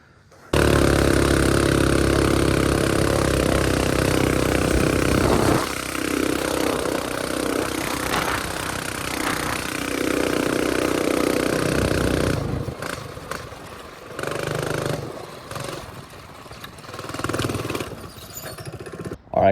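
A mini bike engine bursts into a loud, buzzing run, revving and rattling close by, then settles into an uneven, sputtering idle with dips and surges toward the end.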